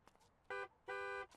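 Carpool car horn in The Sims 2, two short honks with the second held longer, sounding clearly over quiet game ambience.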